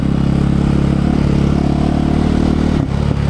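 A quad bike (ATV) engine runs steadily while being ridden, a loud, close, continuous mid-pitched drone with a slight dip near the end, no talking over it.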